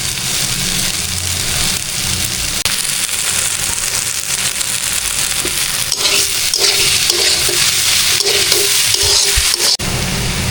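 A vegetable bhaji with coriander leaves frying in a pan gives a loud, continuous sizzle, with a few soft clinks and scrapes of stirring along the way.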